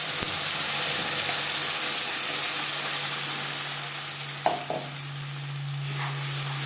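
A ground spice paste with whole garam masala sizzles steadily in a pan for a fish curry, a loud continuous hiss with a couple of soft scrapes of a stirring spoon, no voices.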